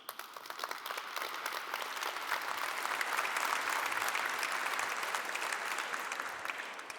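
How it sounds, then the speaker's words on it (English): Sustained audience applause at the Green Awards ceremony, dense clapping from a large crowd that holds steady and full throughout, with no talk over it. "Time for an applause."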